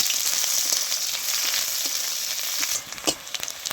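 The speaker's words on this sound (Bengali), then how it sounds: "পেঁয়াজটা খুব ভালো করে ভেজে নিয়েছি" Chopped onion fries in mustard oil with bay leaves and a dried chili, giving a strong continuous sizzle that turns into scattered crackles and spatula scrapes toward the end, with no talking.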